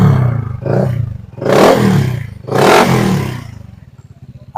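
Honda ADV scooter fitted with a G3 exhaust revs in two strong throttle blips from a burbling idle, loud and close, then settles back into a pulsing idle.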